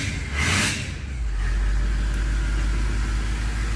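Ford 6.0 Powerstroke diesel in a factory race truck, running with a new exhaust: a loud, steady close-up engine drone with deep low rumble after a short rev at the start, with no talking.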